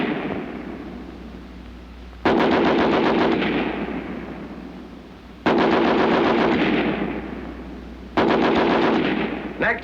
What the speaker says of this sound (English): In this test, each weapon will fire 30 rounds. First, the American Light 30 on the bipod.